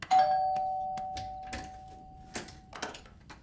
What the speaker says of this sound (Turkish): Ulan bu zili icat edenin.